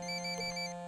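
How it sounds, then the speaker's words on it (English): A phone in the video game Ghost Recon Wildlands rings with a steady electronic tone holding several sustained pitches, brief and moderately quiet, with no talking. "Oh God, there's double ringing."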